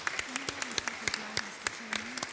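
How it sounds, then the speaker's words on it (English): Sparse audience applause at the close of a leaders' summit session, scattered individual claps ringing out over a low murmur with a voice faintly underneath. "I would request that you give a clap to everybody in this session."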